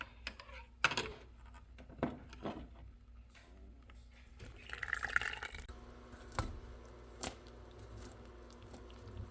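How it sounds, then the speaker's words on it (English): Wet and dry muffin batter ingredients being combined in a bowl, with a series of soft wet clicks, taps and squelches of a spoon working through thick batter, fairly close and quiet, without talk. "we're gonna combine wet ingredients into dry ingredients, and we're gonna mix it until just combine"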